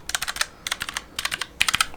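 Rapid bursts of typing on an HP 430 programmable wireless keypad, clusters of crisp key clicks separated by brief pauses, close and clear with no voices.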